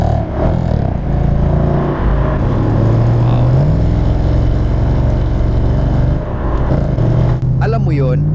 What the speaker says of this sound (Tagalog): Gustong gusto ko talaga yung mabagsik na tunog ng tambutso ng kotse.